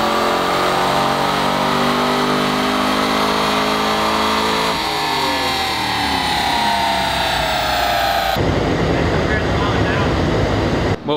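A car with a swapped engine runs a horsepower pull on a dynamometer, its loud engine note climbing steadily in pitch as it revs out. Near the end the sound abruptly breaks into a rough, broadband roar.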